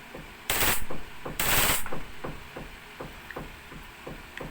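A WE Hi-Capa airsoft pistol fires on full auto, two short, loud bursts of rapid sharp snaps close by, followed by quieter irregular clicks and knocks.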